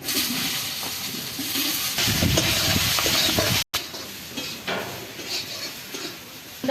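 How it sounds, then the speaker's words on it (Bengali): Eggplant frying in mustard oil for a Bengali fish curry with homemade lentil dumplings: a steady, loud, close sizzle with occasional stirring scrapes, cut by a brief dropout midway. "এবারে বেগুনটা ভেজে নিচ্ছি"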